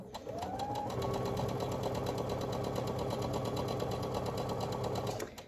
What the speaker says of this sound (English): Just going to sew this down.